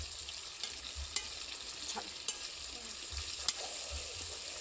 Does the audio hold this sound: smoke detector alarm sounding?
no